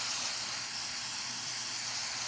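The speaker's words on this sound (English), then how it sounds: "you're just going to want to spray all of it really hard to get all of the hair to become stiff" Hairspray hisses from an aerosol can onto a doll's hair in one steady, loud, continuous spray with no pauses or talk.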